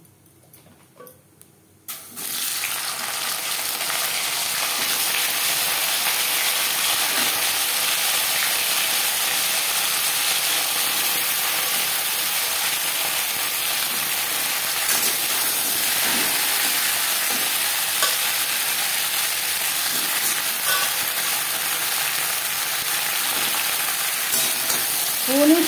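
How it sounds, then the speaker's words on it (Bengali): Okra tossed into hot oil with fried whole cumin for a meatless bhindi dish, a loud steady sizzle that erupts after a short quiet start and holds broadband for the rest, with faint stirring scrapes and no talking. "15-20 সেকেন্ড জিরে ভেজে নেওয়ার পর দিয়ে দেব ভেন্ডি।"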